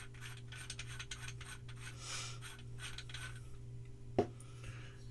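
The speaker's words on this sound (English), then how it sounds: "So you unthread your pommel," Pommel of a SaberForge GrandMaster lightsaber staff being unthreaded, with faint metallic ratcheting and gear-like ticks over a steady low hum, ending in one sharp click near the end.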